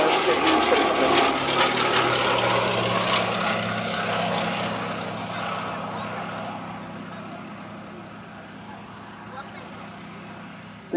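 A propeller-driven rough-field aircraft with a long-range tank slung underneath drones past at the Shuttleworth Pageant air show, loud at first and then gradually fading into the distance.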